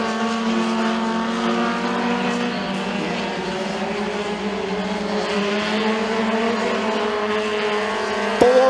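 Mini stock race cars in a heat race at McKean County Raceway roar past as one continuous, loud, layered engine drone, with pitches shifting as the cars circle the track.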